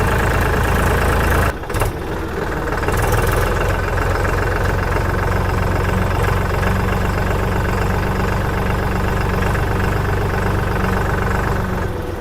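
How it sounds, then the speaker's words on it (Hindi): A tractor engine runs loud and close throughout, a steady low chugging drone with a dense knocking texture and one brief dip in level early on. "अब देखो भाई क्या शानदार तरीके से हमारा ट्रैक्टर चल रहा है"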